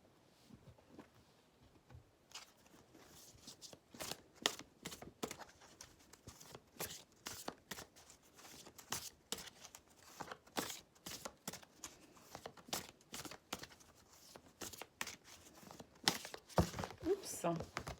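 Oracle cards from the Lunar Nomade deck are shuffled for a reading, giving rapid, irregular papery flicks and riffles that come close and clear, with short pauses between bursts.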